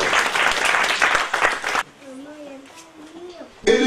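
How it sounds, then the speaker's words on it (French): A church congregation applauds during a sermon: a loud burst of clapping lasts a couple of seconds, breaks off into a quieter stretch with a lone voice, then the clapping resumes briefly. "Applaudissez un peu le Seigneur."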